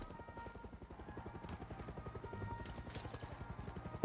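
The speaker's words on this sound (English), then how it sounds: "There's another fucking helicopter in the air." A helicopter in the video game Far Cry 6, its rapid rotor chop pulsing steadily and growing slightly louder over the few seconds.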